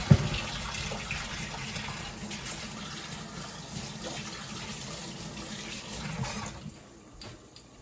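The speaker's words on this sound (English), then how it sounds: "let me wash my hands real quick" Tap water runs steadily while hands are washed in a home kitchen, a continuous close splashing hiss that tapers off near the end.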